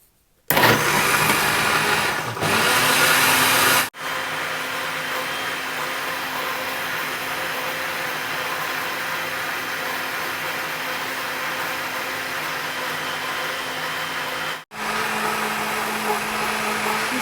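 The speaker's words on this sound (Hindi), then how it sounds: "अब इन सारी चीज़ों को अच्छी तरह ब्लेंड कर लेंगे" A kitchen blender whirs loudly and steadily while mixing a dates and nuts milkshake with honey, starting abruptly, pausing briefly twice and running continuously in between with no talk.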